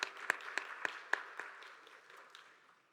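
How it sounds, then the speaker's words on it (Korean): Church congregation at a Sunday young adults' worship service breaks into applause, opening with a few distinct sharp claps that blend into a dense, steadily fading wash of many hands. "서로를 격려하면서 박수하겠습니다."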